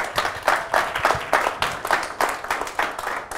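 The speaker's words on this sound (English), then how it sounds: "So everybody give them a round of applause" Audience applause at an international football betting conference, steady hand clapping from a crowd through the whole stretch, close and fairly loud with no talking over it.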